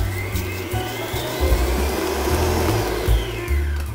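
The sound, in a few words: stand mixer beating butter and sugar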